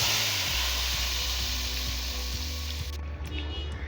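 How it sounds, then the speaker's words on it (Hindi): Cloves, chili and cumin powder hit hot oil for a tadka, giving a loud, steady sizzle and hiss close by that eases slightly toward the end, with low clunks of the pan underneath. "ऑयल यहाँ पर गर्म हो चुका है, इसमें डाल देंगे लौंगी मिर्च और डाल देंगे जीरा पाउडर"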